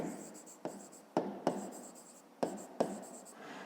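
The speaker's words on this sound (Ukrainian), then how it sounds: "Далі пишемо" Pen writing on paper during a fifth-grade maths exercise, a series of short scratchy strokes with brief taps between them, close and fairly quiet, with no talk.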